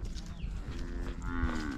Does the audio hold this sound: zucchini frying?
no